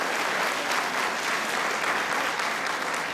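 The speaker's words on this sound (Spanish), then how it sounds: "dense un aplauso por eso" Church congregation applauding during a Spanish-language sermon, a dense, steady wash of many hands clapping at once, loud and continuous without pause and with no talk over it.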